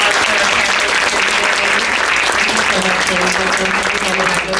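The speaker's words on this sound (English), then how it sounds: "Let's have a round of applause for our candidates" Loud, sustained clapping from an audience at a women-in-tech leadership event, dense and even throughout with a hint of crowd murmur beneath.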